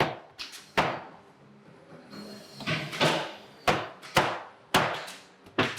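A series of sharp, close knocks in uneven bursts as a hammer taps a logo into place at the Marshall amplifier factory, with brief pauses between strikes.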